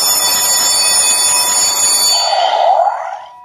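A Raidin electronic alarm clock rings loudly and continuously with a dense bright buzz for about three seconds, then quickly fades out.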